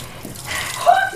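Hot water runs from a tap in a bathroom in a 2004 period drama, a soft hiss of flowing water lasting about a second, with a brief tonal squeak as the stream strengthens.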